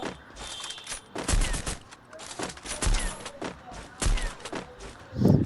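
Gunfire from an AWM sniper rifle in a battle royale shooter on the Solara map, with several sharp, booming shots spaced a second or so apart over a steady game background.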